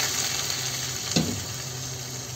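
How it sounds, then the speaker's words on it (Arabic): Boiling water poured into a pot over browned rabbit, a steady loud sizzle and hiss with a brief splash surge partway through. "بعد كده بنزود المية المغلية بتاعتي"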